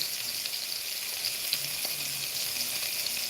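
Beef steak sizzling on a grill, a steady close hiss and crackle that runs without break and without voices.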